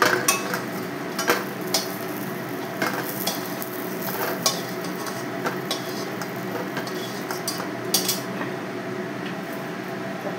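Bori, Bengali lentil dumplings, fry in oil in a kadai with a steady, close sizzle and crackle, punctuated by occasional sharp clinks of a utensil against the pan; no one speaks.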